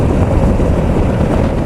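A Honda Transalp V700XL motorcycle cruising at about 105 km/h and 4500 rpm, its engine drone buried in a steady, loud rush of wind across the microphone with no break.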